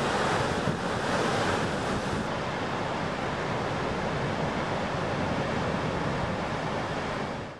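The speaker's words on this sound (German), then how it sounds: "Dadurch fließt das Wasser über mehrere kleine Wasserfälle ab." Water pouring over the horseshoe-shaped Godafoss waterfall in Iceland, heard as a loud, unbroken broadband roar mixed with gusty wind buffeting the microphone, continuous for several seconds.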